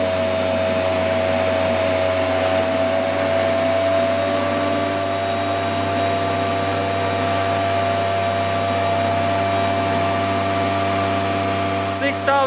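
An aircraft DC starter-generator runs steadily at mid rated speed on a test setup, giving a loud continuous whine with a strong low hum and high tonal lines, holding for the whole stretch with no voices.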